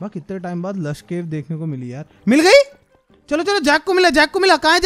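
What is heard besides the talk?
No everyday noises stand out.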